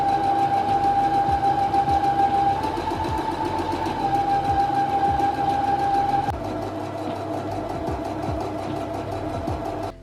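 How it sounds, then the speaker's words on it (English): A sewing machine runs continuously while stitching a small, thin folded hem on a top, its rapid mechanical whirr and rhythmic needle clatter steady and close throughout with slight speed changes. "I'm just gonna fold over the edge, sew it down, try to make a really small, thin hem"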